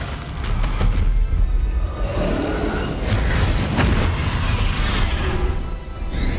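A Descendo spell cast during a Hogwarts Legacy battle brings heavy booming crashes and rumbling impacts, loud and sustained amid layered combat effects.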